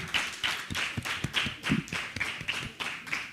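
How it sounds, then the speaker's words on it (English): An audience at a temple volunteer appreciation and Thanksgiving feast claps in a steady, dense round of applause, many hands beating together continuously at close range with no talk over it. "Big round of applause."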